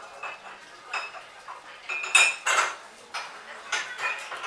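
Gram flour batter stirred with a ground spice paste in a metal bowl, giving a rhythmic series of light clinks and scrapes, close and moderately quiet, with no talk.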